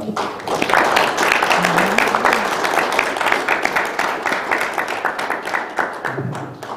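Audience applause at a Korean shared-growth forum plaque ceremony, a dense steady patter of many hands clapping throughout, easing slightly toward the end.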